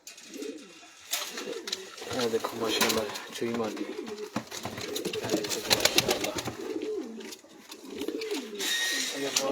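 Rare Sialkoti pigeons cooing in a small rooftop loft, repeated throaty rolling coos overlapping one another, with someone talking over them and occasional sharp clatters.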